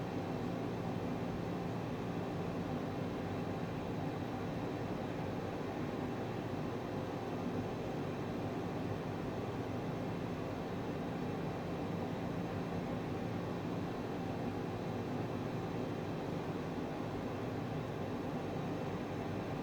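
Aircraft taxiing in a flight simulator game on the way to Aspen, heard as a steady, unbroken engine drone with a broad hiss that holds at an even level throughout, with no voices.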